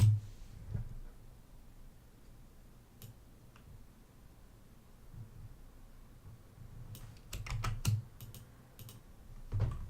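Quiet typing on a computer keyboard comes as sparse soft clicks, then a brief quick flurry of keystrokes near the end, with faint background hum and no talking.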